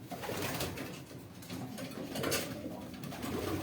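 Pigeons coo in a loft, soft repeated throaty calls rolling on over a low steady background hum, several birds close by, with no talking.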